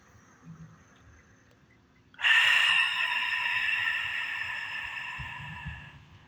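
Ujjayi breath drawn audibly through a constricted throat: a sudden close, loud hissing airflow starting about two seconds in and holding steadily, slowly fading, with no talk over it.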